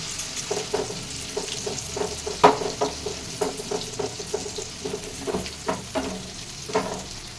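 A ground tomato and spice paste sizzles steadily in a hot pan while being stirred, with irregular scraping strokes and spitting bursts close by, no talking.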